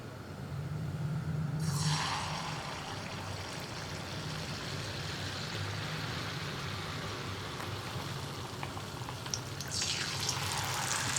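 Wheat-battered banana fritters (pazham pori) sizzle and crackle steadily in a shallow pan of hot oil, a continuous close frying hiss that swells slightly when a piece goes in, with no voices.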